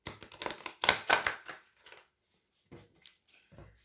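Tarot cards are shuffled by hand in close, crisp riffling bursts, then a pause and a few softer shuffles, quiet and alone.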